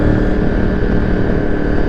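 A Honda VFR 800 fifth-generation motorcycle engine runs with a steady, loud, dense drone while riding, no talking.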